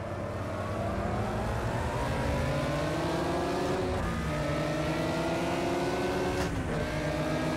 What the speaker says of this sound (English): I hear a car to my right,